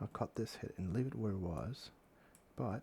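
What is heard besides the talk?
No everyday noises stand out.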